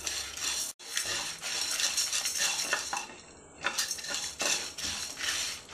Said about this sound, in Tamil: நீங்கள் பருப்பையும் இதையும் போட்டதுக்கப்புறம் ஒரு 2 நிமிஷம் மிதமான தீயில் வச்சு வறுத்து விடுங்க